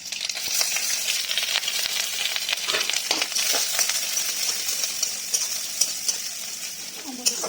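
Onions and crushed garlic fry in oil with a close, steady sizzle and crackle, while a spatula stirs and scrapes at an uneven rhythm, and occasional metallic taps ring against the pan.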